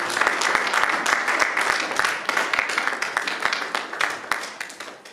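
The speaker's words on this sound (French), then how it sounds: "Acclamons très fort pour les rois." A church congregation at a Sunday service applauds loudly, a dense burst of many hands clapping that thins into sharper scattered claps as it goes on, with voices mixed underneath.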